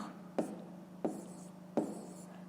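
Pen or pencil writing numbers by hand during a fifth-grade math lesson: three quick, faint scratchy strokes spaced evenly apart over a low steady hum, no talking.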